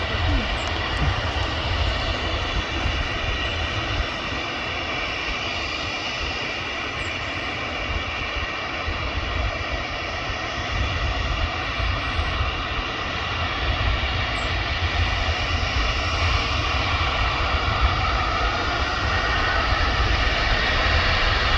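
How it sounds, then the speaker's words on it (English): A Virgin Atlantic Airbus A350 jet airliner passing a viewing park, its engines producing a loud, sustained roar that holds steady and swells slightly toward the end, with people talking over it now and then. "There we go, Virgin A350"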